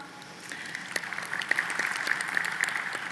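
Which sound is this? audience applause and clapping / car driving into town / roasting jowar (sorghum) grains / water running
audience applause and clapping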